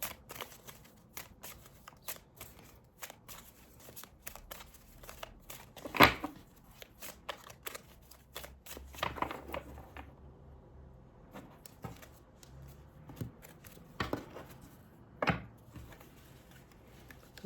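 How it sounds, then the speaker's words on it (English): A deck of oracle cards is shuffled by hand in a quiet room, giving soft irregular riffling and slapping bursts with brief pauses, close and gentle. "I'm going to give these a shuffle now."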